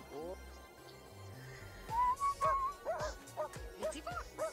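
A dog in The Sims 2 game gives a string of short yips and whimpers, with a whistle-like tone and soft game music running under them.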